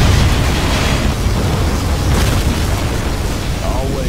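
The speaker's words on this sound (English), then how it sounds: "particle cannon activated" A loud, sustained booming particle cannon blast in Command and Conquer Generals, with a rumbling roar that fills the whole moment, dense and continuous.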